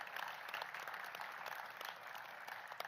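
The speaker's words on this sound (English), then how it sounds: "Let's give our National Park Service folks a big round of applause." An audience gives a steady round of clapping for National Park Service staff at a Southern Maryland 250 event, dense and sustained at moderate loudness throughout, with no voices over it.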